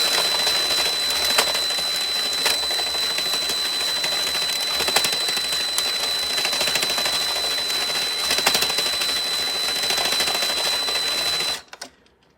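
A power drill drives an Addi knitting machine with a loud, continuous rapid clattering whir that runs steadily for about eleven seconds and then stops abruptly.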